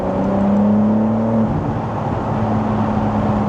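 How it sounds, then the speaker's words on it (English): A BMW M4 Competition on the road, its engine giving a steady loud droning whir from inside the cabin, with a tonal hum that drops away briefly and then returns. "When you drive this car, it does feel very modern."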